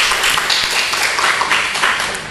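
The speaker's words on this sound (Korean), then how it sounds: "박수 한번 쳐주시기 바랍니다." A church congregation applauds together at a Sunday service, a dense, steady wash of clapping from many hands that fills the room evenly for a couple of seconds.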